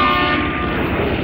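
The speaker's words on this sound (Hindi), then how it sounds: "बोट का हॉर्न भी बजा अपने" A boat's horn sounds at the Alang ship breaking yard as a loud, continuous, blaring drone that fills the whole moment, with no voices over it.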